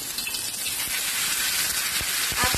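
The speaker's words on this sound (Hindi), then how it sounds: "तो अब हम इस मच्छी को तल लेंगे। सबसे पहले हम एक एक करके फिश रखेंगे।" Bangda mackerel fish frying in hot oil, a continuous close sizzling hiss with a few crackles and pops near the end.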